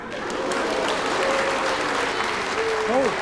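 A studio audience at a Dutch TV quiz show applauds steadily with dense, continuous clapping, while brief voices and tonal sounds rise over it near the end.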